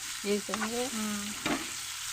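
Ivy gourd frying in a pan gives a steady, close sizzle throughout, with a few brief squeaky tonal sounds on top.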